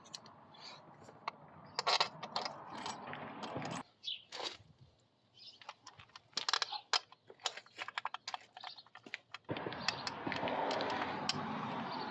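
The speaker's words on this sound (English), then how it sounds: "And we will put our bolts back in." Small metal bolts on the clutch of a Coolster mini jeep are handled and fitted back in, giving close, sharp clicks, taps and scrapes in scattered bursts with quiet gaps and a steady hum toward the end.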